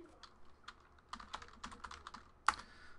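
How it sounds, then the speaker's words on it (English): Keystrokes on a computer keyboard entering data into a randomizer, a steady run of light, quick clicks at close range with one sharper, louder tap near the end. "let's type in the hits, run the randomizer"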